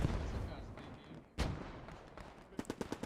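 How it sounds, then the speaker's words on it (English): A smoke barrage of artillery fire in a strategy video game, with a sharp blast partway through and then a rapid cluster of booming impacts near the end over a rumbling battle background. "See a smoke barrage coming in here."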